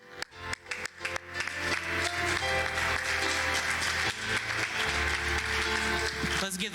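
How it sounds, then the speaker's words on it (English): A church congregation at a Wednesday night apostolic service claps hands in praise, sharp claps opening over sustained instrumental music and voices. "Let's give that hand clap of praise to God right now."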